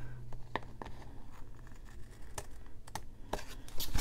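Paper trimmed along its sides while making a planner dashboard, heard as a close series of sharp snips and light scratchy crinkles scattered through a quiet room.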